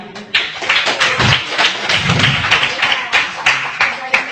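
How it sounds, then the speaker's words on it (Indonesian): Audience applause in a debate hall, a burst of clapping and thumping taps with people talking over it throughout. "Kita tepuk tangan sekali lagi."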